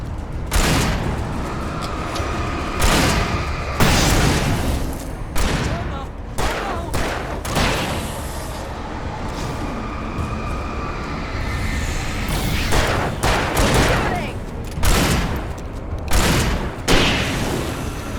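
Heavy gunfire and booming blasts from the video game Alan Wake Remastered, loud repeated shots in dense bursts during a tense fight while holding off attackers, with voices calling out amid the shooting.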